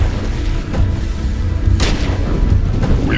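Battle in the game Ground Control II: Operation Exodus, with heavy booming artillery and explosions over a constant low rumble, punctuated by sharp cracking gunshots, loud and close.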